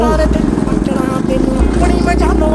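A motorcycle engine with its exhaust clamp removed idles loud and close, giving a raw, steady throbbing rumble, with someone talking over it throughout.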